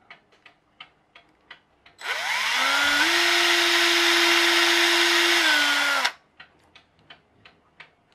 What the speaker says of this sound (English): using one of the axles as my drill bit